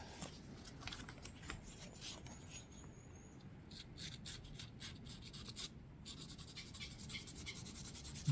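Sanding with 600 grit sandpaper while smoothing a superglue repair ahead of polishing, a quiet close-up rasping that comes in rapid, uneven strokes, with brief pauses between passes.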